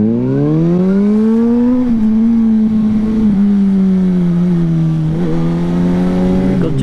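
A car accelerates hard to overtake a driving-school car, its engine note rising loud and close, easing briefly, then climbing again in a continuous drone.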